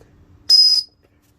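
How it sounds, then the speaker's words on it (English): One short, loud, shrill blast from a small whistle built into a knife sharpener multi-tool gadget, sounding alone and cutting off cleanly. "It is a whistle"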